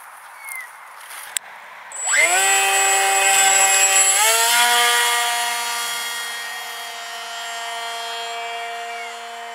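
Scratchbuilt elevon-only RC park jet motor spooling up after a couple of clicks, rising to a loud high-pitched electric whine that steadies, surges briefly, then settles into a sustained drone.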